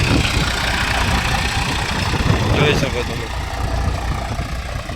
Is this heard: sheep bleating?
no